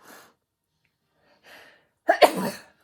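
A person gives a single sharp, loud sneeze up close after a couple of soft breaths, with no other sounds around it.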